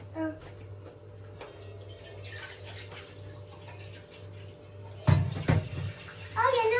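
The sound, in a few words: water filling a pot for tea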